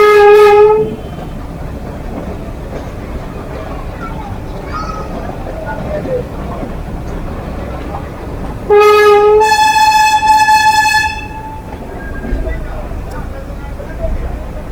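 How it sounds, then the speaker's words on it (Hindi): Broad gauge Bhagalpur–Mumbai express train passing beside a meter gauge rail bus near Mathura–Vrindavan, with loud horn blasts at the start and again midway over a continuous rumble of wheels on rails, close by. "ये अपनी मीटर गेज की रेल बस चल रही है और बगल से ब्रॉड गेज की ट्रेन"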